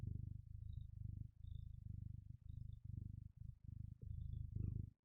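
Bella, a pet cat, purrs steadily and close, a low rhythmic rumble in pulses with brief pauses for breath, and no voices over it.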